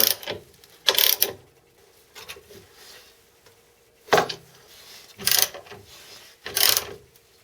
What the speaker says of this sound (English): I've got the screws on here and it's just a matter of tightening them down